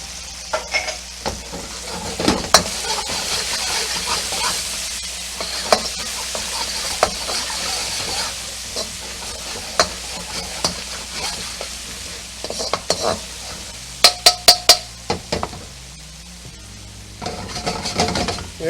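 Ginger sizzles and fries in hot oil while being stirred for orange chicken, a steady close crackle broken by sharp scraping and clacking of a utensil against the pan, with a cluster of quick clicks near the end.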